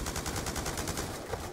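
Rapid automatic gunfire from a Call of Duty: Black Ops 2 gun game match, a steady fast rattle of shots filling the whole stretch, close and loud with no voices over it.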